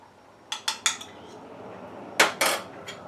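Eggs being stirred into a custard base for homemade ice cream, heard as a few sharp utensil clinks against a bowl or pot, three early knocks and then a louder cluster of scrapes, close and with no talking.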